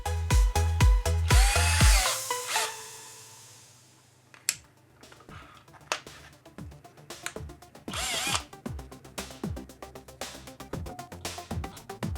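A power drill bores a hole into a saw blade while a spiked baseball bat is being built. There are loud bursts of high-pitched whirring, then slower ratcheting clicks and short drill pulses, with a final long spell of drilling.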